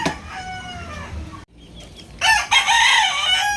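A rooster, a fighting cock, crows loudly nearby, then after a short silence crows again, strong and ringing.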